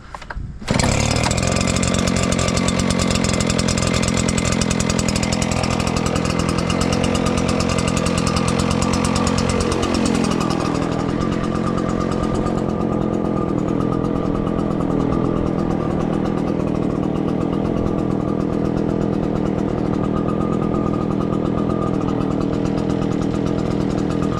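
A Troy-Bilt gasoline engine catches and runs steadily, a loud continuous buzzing drone with a slight drop in pitch partway through, close and with no talking.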